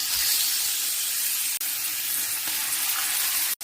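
Beef for steak searing in a hot pan of oil, giving a loud, continuous broadband sizzle with one or two faint ticks, steady and close with no voices.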